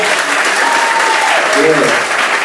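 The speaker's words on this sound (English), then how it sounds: "Give them a round of applause." An audience at a summer celebration event claps loudly and continuously, a thick wash of applause with a voice speaking faintly underneath.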